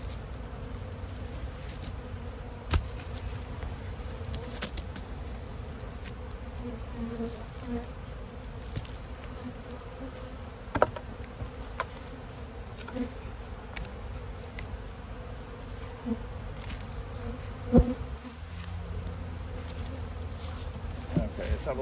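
Bees buzzing steadily around a beehive as a dense, constant hum close by, with occasional faint knocks and clicks and no voices.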